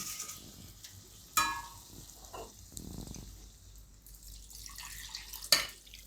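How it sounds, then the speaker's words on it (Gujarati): A little water splashes into a hot pan of onion-tomato gravy and sets off a soft sizzle, with a couple of sharp metallic clinks. No voices. "હવે આપણે આમાં થોડુંક પાણી નાખીશું"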